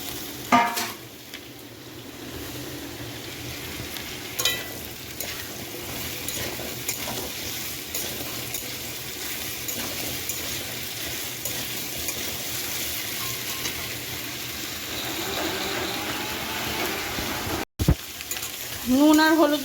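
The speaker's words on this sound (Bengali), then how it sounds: "এই যে পুঁই শাকের ডাটাগুলো আলাদা করে এগুলোও দিয়ে দেবো" Malabar spinach stems fry in a pan with a continuous sizzle, broken up by frequent stirring scrapes and utensil clatter close by. A brief dropout comes near the end, and no one speaks.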